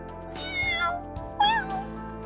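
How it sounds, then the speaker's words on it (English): A frightened little kitten in the video game Aether Gazer gives two distinct meows a moment apart, each clear and close, over a soft background hum. "A terrified little kitten peeked out from under the sofa"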